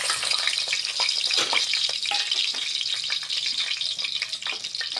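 Whole star anise, cloves, cinnamon and bay leaves sizzle steadily and loudly in hot oil for a chicken curry, with light stirring scrapes over the continuous crackle and no talking.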